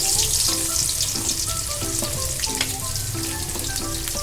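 Onions frying in hot oil in a pan with popped mustard seeds, a loud, steady sizzle with crackling pops and light stirring, close and continuous with no talking.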